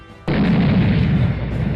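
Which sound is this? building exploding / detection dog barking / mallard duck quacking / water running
building exploding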